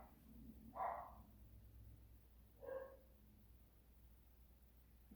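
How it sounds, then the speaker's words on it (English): A dog barks twice in the distance at a quiet indoor bonsai repotting session, two single faint barks spaced about two seconds apart over low background hum. "You gotta excuse the dog barking."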